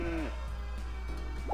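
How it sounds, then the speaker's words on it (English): A sheep in the farming video game Harvest Moon: Magical Melody gives a short, faint bleat over steady game background music. "Those sheep must grow up very soon, so I can stop wasting so much time."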